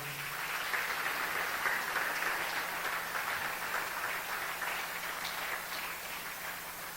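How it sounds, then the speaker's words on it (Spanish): A church congregation claps continuously, a dense, even wash of applause that holds steady for several seconds before easing slightly. "Denle un aplauso fuerte al Señor."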